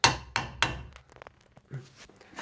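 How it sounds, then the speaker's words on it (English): Hammer tapping a stuck brake pad loose on a Dacia Sandero, three sharp metallic ticks in quick succession followed by faint clinks and handling noises. "give a nice little tick with the hammer and then it will come loose"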